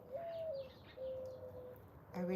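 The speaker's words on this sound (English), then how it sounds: "they will all come and start, you know, chirping" Birds call in the morning sun, giving two drawn-out whistled notes and then a sharper burst of calls at the end, against quiet surroundings.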